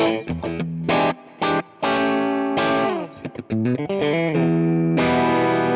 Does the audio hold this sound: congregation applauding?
no